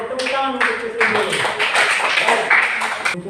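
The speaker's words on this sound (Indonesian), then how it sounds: "Harus tepuk tangan untuk kesimpulan." A classroom of students claps their hands together at the close of a lesson, a busy, fairly loud patter of many hands with voices mixed in throughout.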